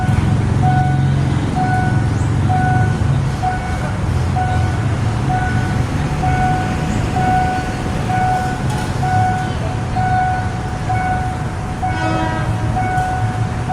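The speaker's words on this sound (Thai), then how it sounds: "นี่เสียงเป็นรถจักรอัสตอมนะครับ" Alstom diesel locomotive hauling a crude oil freight train past the Makkasan rail crossing, a steady loud rumble with sustained tonal horn blasts over continuous wheel and engine noise, close by throughout.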